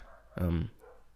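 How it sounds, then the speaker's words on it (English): A single dog bark indoors, one short, loud, close yelp standing out over quiet room tone, with no talk alongside it. "That dog, it's trying to interrupt what I'm doing."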